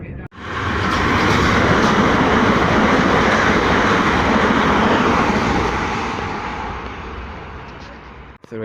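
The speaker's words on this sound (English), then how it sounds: "It's a Thames Link train running early." A Thameslink Class 700 electric train rushes through Three Bridges station, a loud close roar of wheels and rail clatter that swells quickly, holds, then fades as it passes.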